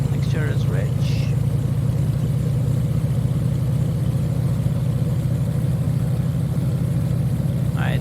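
A simulated light aircraft piston engine runs up steadily at 1800 RPM in the Prepar3D flight simulator, a constant loud droning hum with brief faint chirping sounds near the start and end.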